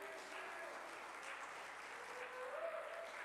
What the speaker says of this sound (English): Could we have a round of appreciation applause for Jane?